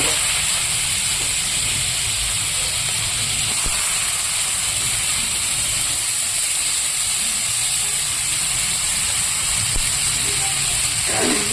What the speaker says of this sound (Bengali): তেলে দিয়ে দিয়েছি আমি কালো জিরে এবার আমি দিয়ে দেবো কেটে রাখা গুলো